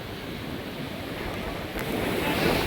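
Ocean waves roll in at a quiet beach in North Goa as a steady broadband wash of surf, swelling slightly near the end, with some wind noise and no voices.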